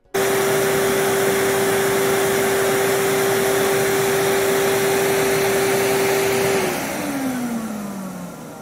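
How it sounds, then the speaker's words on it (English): A vacuum cleaner runs with a steady, loud whirring suction roar and a constant motor whine, then the pitch drops and the roar fades as it winds down near the end. "A vacuum cleaner makes a sucking sound."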